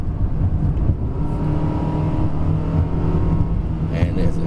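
A 2020 Perodua Bezza's engine drones steadily from inside the cabin during a test drive after a downshift, with a continuous low rumble and road noise that holds even throughout.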